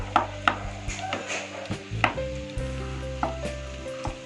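A spoon stirring a potato fry with green chillies in a pan, sending out a series of distinct scraping knocks against the metal over a low background sizzle, close and moderately loud.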